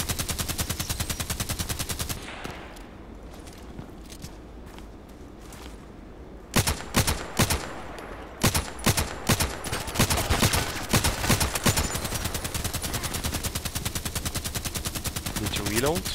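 Gunfire in the shooter game Contract Wars: rapid machine-gun bursts run loud and steady, pause for a quieter stretch, then return as repeated sharp volleys and continuous automatic fire through the end.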